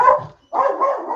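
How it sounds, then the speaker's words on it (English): Small dogs barking in close, sharp bursts: a short yapping burst, a brief pause, then a longer run of excited barks, loud and alone with no talk. "Sorry about that. It's the little dogs."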